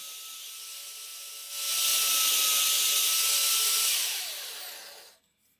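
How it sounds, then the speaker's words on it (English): A power drill bores guide holes into a wooden strip for a homemade workbench moxon vise: a high whining, grinding burst that rises sharply, holds loud for about three seconds, then tapers and winds down to quiet. "first I drill some guide holes in this wooden strip"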